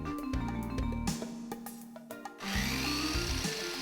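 A steel-cutting saw blade bites through metal stock at high speed, giving a loud, close grinding rasp with a humming whine, briefly easing off midway before the cut resumes at full force.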